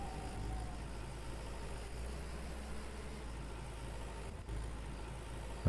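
A tractor engine idles in Lumberjack's Dynasty, a steady low rumble that holds evenly and fairly quietly, with a brief dip and a louder bump at the end.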